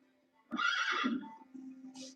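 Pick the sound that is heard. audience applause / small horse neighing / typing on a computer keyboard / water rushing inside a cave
small horse neighing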